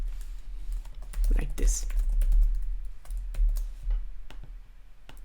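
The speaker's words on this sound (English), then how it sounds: "where we would then type in Hello World" Computer keyboard keys clatter in quick irregular bursts as text is entered during an HTML coding tutorial, close and fairly quiet, with a voice speaking briefly over the clicking.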